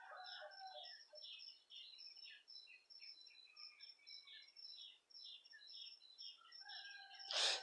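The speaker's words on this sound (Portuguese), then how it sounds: "eu gosto de ver os passarinhos de Deus cantando" Small birds chirp and trill continuously, several overlapping high calls at moderate distance, with a louder sharp burst at the very end.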